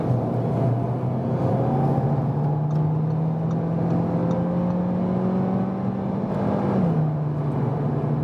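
A 2020 Audi A3 Sportback, not the sports version, accelerates from 60 to 120 km/h, its engine note climbing steadily in pitch and then dropping briefly at a gear change, loud and close as heard from inside the car.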